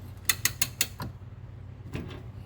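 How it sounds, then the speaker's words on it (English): Harrington 3-ton hoist handle clicking as the middle portion is screwed in, a quick run of four or five sharp ratchet clicks followed by a softer pair, close and quiet, no talk. "Screw this middle portion in until you hear a couple clicks"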